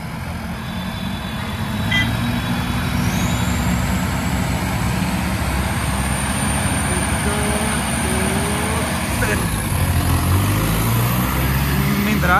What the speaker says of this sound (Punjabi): ਵੇਖਦੇ ਹਾਂ ਟਰੈਕਟਰ ਕਿਹੜਾ ਜ਼ਿਆਦਾ ਭੱਜੇਗਾ ਦੋਵਾਂ ਦੀ ਰੇਸ